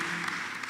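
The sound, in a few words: church congregation applauding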